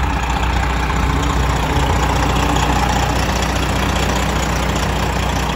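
A 2017 Peterbilt 389 glider truck with a remanufactured Detroit diesel engine idles steadily after running for about an hour, a loud, constant low rumble close by with no talk.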